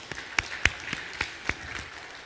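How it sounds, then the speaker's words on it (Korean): A small church congregation gives a brief round of encouraging applause during a Wednesday service: a handful of scattered, separate handclaps over about two seconds, moderately close and fairly quiet. "오늘부터 우리 예인이가 예쁜 예인이가 우리 오늘부터 반주해 주시기로 했는데 격려의 박수 좀 합니다"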